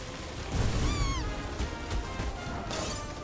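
A cat meows once in Final Fantasy VII Rebirth, a short rising-falling mew heard over busy game noise with thumps and clatter.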